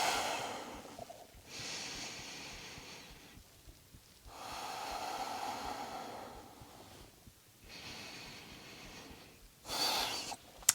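Deep, slow breathing during a yoga session, several long airy inhales and exhales close to the microphone with short quiet pauses between them, ending in a sharper breath.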